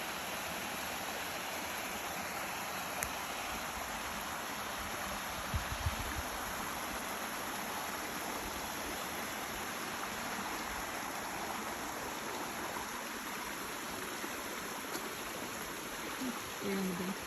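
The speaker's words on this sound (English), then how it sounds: "It's water down there, coming over the rocks." Creek water flows over rocks nearby, a steady broadband rush with no pauses, fairly loud and constant throughout with occasional faint bumps.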